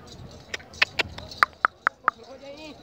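Hooves of a black horse for sale at a horse market in Gujrat clip-clop on hard ground, about eight crisp, evenly spaced steps close by, with faint background murmur.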